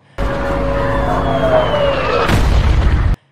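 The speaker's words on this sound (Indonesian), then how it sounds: "tiba-tiba ada bunyi sirine menyebabkan mati lampu dan terdengar suara seperti dentuman bom" A wailing siren slides downward, then a deep bomb-like boom bursts out and rumbles before everything cuts to silence.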